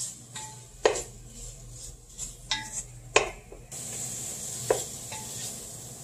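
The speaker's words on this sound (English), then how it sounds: "we'll let that cook for a second. Stir it around both the sides" A utensil scrapes and clinks against a pan as cooking food is stirred, several sharp strokes spread irregularly over a steady frying sizzle that grows louder toward the end.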